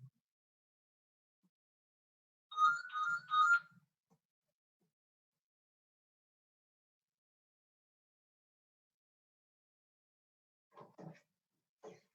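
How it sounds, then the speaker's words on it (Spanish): A phone ringtone sounds in a classroom lecture on applied mathematics, a short melodic tonal burst of two quick phrases, fairly near, followed by long silence and a few faint distant voices. "Corta el teléfono."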